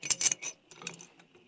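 A wrench on the head bolts of a John Deere 420 makes a short burst of close, crisp metallic clicks, a brief pause, then a few more clicks, and quiet follows.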